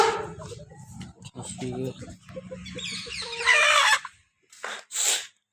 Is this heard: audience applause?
no